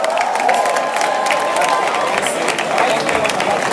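A live audience applauds and cheers for a singer, a loud, continuous wash of clapping and crowd noise with some shouts, sustained from start to finish.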